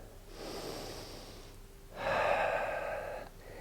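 Yoga breathing during a power flow class holding a pyramid pose: a slow breathy exhale through the nose, a brief pause, then a louder, rougher second breath, close and with no speech.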